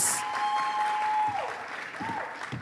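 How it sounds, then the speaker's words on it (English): Audience applause for Charlene at a drug-free generation event, a steady wash of clapping from a crowd that fades slightly toward the end, with a brief voice mixed in. "Some more round of applause for Charlene"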